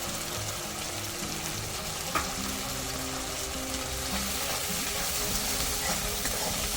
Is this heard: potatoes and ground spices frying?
yes